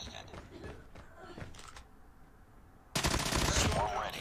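Peacekeeper rifle fire from Call of Duty Mobile comes as quick bursts of clattering automatic shots, then a short lull, followed by a louder, denser spray of game action sounds near the end.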